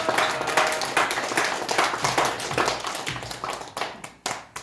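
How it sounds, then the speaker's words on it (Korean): Congregation clapping together during a church worship service, rhythmic claps that rise into a dense burst and then thin out into a few separate, louder claps near the end. "우리 박수로 하나님께 영광을 한번 드립니다."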